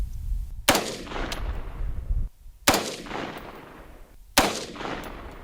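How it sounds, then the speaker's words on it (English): Three loud, close rifle shots ring out from a FoldAR folding rifle at the range, evenly spaced about two seconds apart, each a sharp crack followed by a decaying echo, with no speech. "Now we're going to shoot a third group. Same distance."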